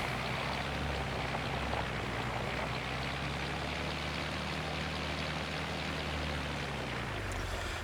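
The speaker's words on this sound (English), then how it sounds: "now that it's raining" Steady rain falls in the farming game Krustoo Farms, a constant hiss with a low drumming undertone that holds evenly throughout, with no voices.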